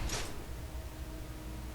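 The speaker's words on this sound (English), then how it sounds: "Close the door" A single quick door thud at the start inside a Fallout 3 vault interior, followed by a steady low ambient hum.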